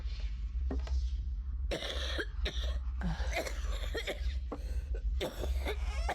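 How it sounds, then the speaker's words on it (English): Coughing in the horror video game Please, Forgive Me: a series of harsh bursts with a low background hum, some hoarse and throat-clearing, spaced irregularly across several seconds. "We heard coughing all of a sudden and..."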